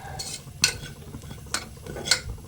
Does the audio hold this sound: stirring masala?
yes